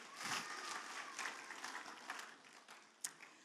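A church congregation bursts into loud, enthusiastic applause during a worship service, many hands clapping together, then thinning out and tapering off with a few stray claps.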